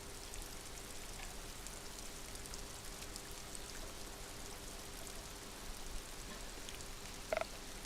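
Soft, steady patter of rain from the Disco Elysium game, faint and even throughout, with a couple of small knocks near the end.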